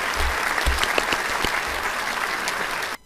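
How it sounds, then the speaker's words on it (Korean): Applause from a small audience, a steady burst of clapping lasting about three seconds before cutting off abruptly. "박수!"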